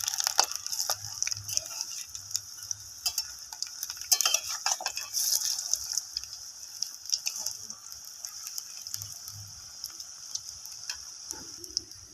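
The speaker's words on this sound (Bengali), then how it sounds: "বেগুনটা যে মাখিয়েছিলাম মশলার সঙ্গে এভাবে গোল গোল করে ভেজে নেবো" Round eggplant slices coated in spices fry in hot oil, giving a bright, crackling sizzle broken by frequent small clicks and scrapes of a utensil against the pan.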